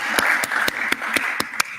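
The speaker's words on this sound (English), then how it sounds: "let's give an applause to our speakers tonight." Audience applause for the evening's speakers fills the room, a steady wash of clapping with several sharper individual claps standing out at a regular pace, close and fairly loud, with no talking over it.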